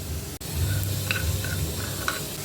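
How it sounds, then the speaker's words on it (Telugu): Fenugreek and mustard seeds frying lightly in a pan for a fish curry masala powder, giving a steady close sizzle with soft stirring scrapes and a few faint clinks, no voices. "ఇవన్నీ లైట్గా ఫ్రై చేసుకున్నాము."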